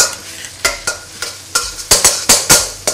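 Stir-frying holy basil with chillies, garlic and galangal in hot oil in a wok: a rapid series of sharp scraping, sizzling strokes of the spatula, close and loud, with no talk.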